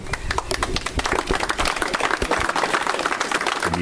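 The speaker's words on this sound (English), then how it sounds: "By that round of applause, you get a sense of the large crowd that had gathered in Kilbeggan this morning" Dense, steady applause from a large crowd gathered at a memorial in Kilbeggan, rapid claps blending into a continuous wash at an even level for the whole stretch.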